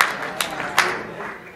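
Audience claps to welcome a poet at a live recital, a fairly loud burst of clapping with a few sharp peaks that thins out toward the end.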